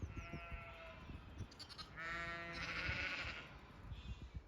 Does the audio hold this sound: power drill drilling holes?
no